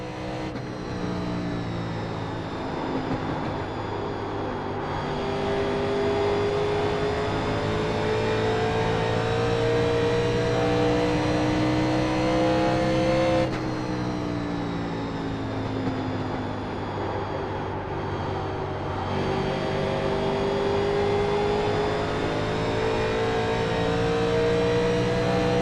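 An open-wheel race car engine, likened to a Lotus 49, drones steadily through a racing sim, its pitch climbing through gears with two clear upshifts, loud and close with no talk.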